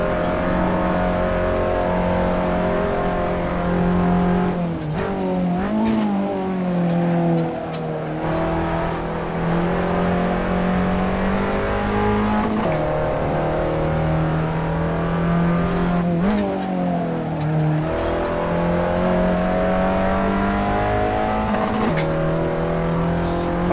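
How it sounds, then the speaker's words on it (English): A race car engine in the Assetto Corsa video game screams loud and close while hot lapping, revving hard between gear changes with sharp dips and climbs in pitch throughout. "It's revving its nuts off between gears."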